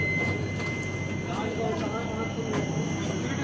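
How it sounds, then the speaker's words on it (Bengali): The Bagh Express passenger train runs toward Kathgodam, heard from inside as a steady rumbling roar with faint rhythmic clatter, continuous and close. "আমরা যাচ্ছি বাগ এক্সপ্রেসে, কাঠগোদাম যায় এটা"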